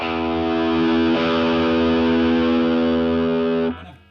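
A heavily distorted electric guitar chord through a high-gain Peavey Stereo Chorus 212 amp rings out loud and sustained, with a second strum midway, then cuts off abruptly near the end.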